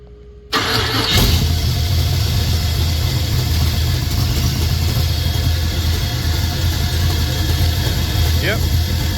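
A GMC truck engine cranks and catches after a brief quiet start, then settles into a loud, steady rumbling idle close by, with a faint voice briefly heard near the end.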